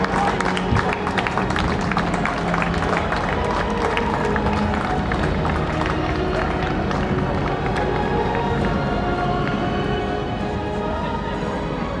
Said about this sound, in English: So a polite round of applause from the crowd